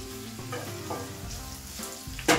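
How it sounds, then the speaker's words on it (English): Cold prawns with garlic hitting a pan on turned-up heat, giving a close, continuous sizzle over a steady tonal hum, ending in a brief louder burst. "turn the heat up a little bit and then get our prawns in"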